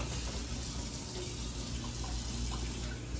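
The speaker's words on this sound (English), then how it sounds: "And as he's throwing the chicken, the water's starting to rise." Tap water runs steadily into a pot being filled for Mexican chicken soup (caldo de pollo), a continuous close gush with no talking.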